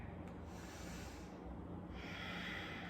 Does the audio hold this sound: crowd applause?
no